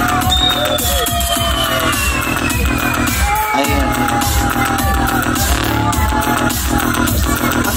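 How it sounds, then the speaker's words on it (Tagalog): Loud fireworks bursting outdoors with a crowd cheering and shouting, repeated bangs mixed with whoops and a short spoken word, dense and close throughout. "Ang ganda pala ng fireworks."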